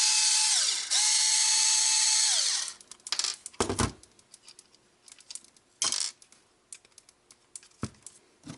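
On an Arrma Outcast 1/8 RC car, a power screwdriver whirs in two sustained bursts while backing out front bumper screws, followed by loose clicks, clatter and small metallic knocks of screws and tools.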